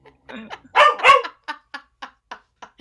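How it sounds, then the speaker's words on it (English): Dog barking close by in an indoor room, one pair of loud barks followed by a steady series of shorter, quieter yips at even intervals, with no talk over them. "I don't know if you can hear my dog barking"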